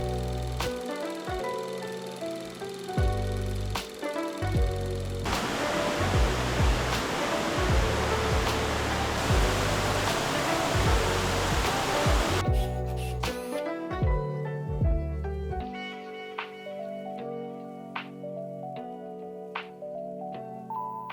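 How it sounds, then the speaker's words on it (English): Mountain river in the Italian mountains, a steady broadband rushing roar of flowing water filling the middle stretch, with music playing before and after it. "more water, but you can see here how narrow the river has become compared to before"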